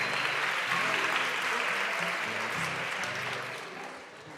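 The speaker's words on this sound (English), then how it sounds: "Can we give them a big round of applause?" A crowd at a startup event in Madrid applauds prize winners with a sustained wash of clapping that fades toward the end while voices murmur underneath.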